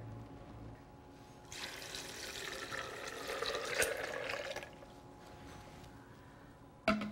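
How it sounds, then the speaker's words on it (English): Water poured into a Vitamix blender jar while making almond milk, a steady splashing stream building for about three seconds, then tapering off, with a brief knock at the end. "And I'm going to add some water."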